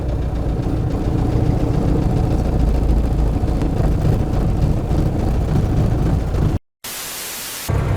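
A tractor-engined ZIL truck with an SMD-18 diesel, running and driving, gives a loud, steady rumbling drone that ends in a brief cutout and then a burst of static.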